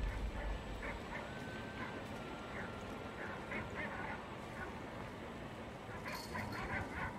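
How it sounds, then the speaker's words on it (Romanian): Pitbull barking outdoors, a series of short yips and barks at a distance, faint over a steady noisy background. "Unde-i câinili? Uite câinili."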